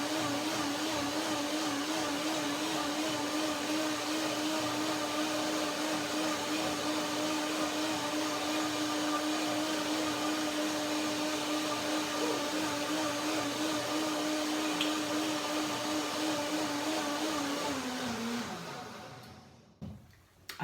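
A blender whirs steadily for about twenty seconds as it mixes an orange, cashew and banana dressing, a loud continuous motor drone that winds down and stops at the end.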